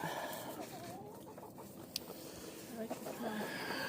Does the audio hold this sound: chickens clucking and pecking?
yes